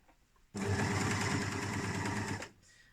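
Serger sewing machine stitching stretched fabric, running in one close, rapid, steady burst of about two seconds between quiet pauses, with no talking.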